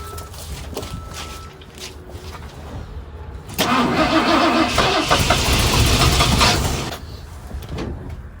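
A 1974 Ford F250 SuperCab with a 460 V8, parked for 14 years, cranks and catches at close range, then runs loudly and roughly for a few seconds before dying back down to a quieter idle.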